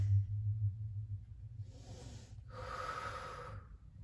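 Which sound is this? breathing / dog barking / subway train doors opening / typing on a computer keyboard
breathing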